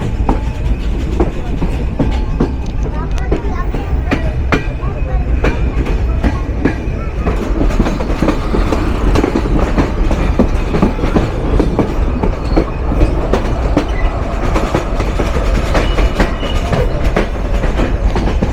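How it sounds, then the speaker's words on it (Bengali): The Dhumketu Express rolls into Jamtail railway junction in Sirajganj, heard from on board as a loud, steady rumble with rhythmic clickety-clack of wheels over rail joints throughout. "আর সেই সাথে আমাদের ট্রেন প্রবেশ করতে চলেছে যাত্রাপথে তার আরেক বিরতি স্টেশন এই সিরাজগঞ্জ জেলার জামতৈল রেলওয়ে জাংশনে"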